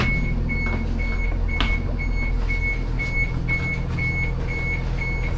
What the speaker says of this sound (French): Il y a une alarme. Je vais aller voir ce qui sonne.